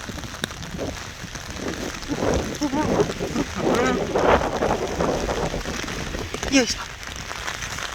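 Heavy winter rain patters steadily on surfaces and clothing in a continuous wash of sound while someone talks over it.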